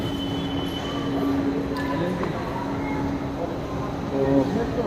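Kolkata metro train rumbling in an underground station, a steady rolling roar with a faint wheel whine, swelling slightly toward the end, with voices murmuring in the background.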